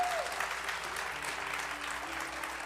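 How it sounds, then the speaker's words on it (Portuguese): Applause from a church congregation at a worship gathering, a steady, fairly distant wash of clapping that holds evenly throughout without any talk over it. "Aplauda Jesus, pelo amor de Deus."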